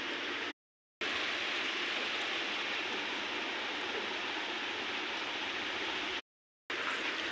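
Steady rain falls in a dense, even hiss, loud and continuous and broken only by two brief silent cuts.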